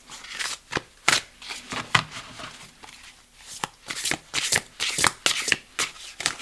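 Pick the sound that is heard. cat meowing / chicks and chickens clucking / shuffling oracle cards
shuffling oracle cards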